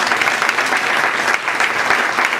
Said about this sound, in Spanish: Den un aplauso fuerte.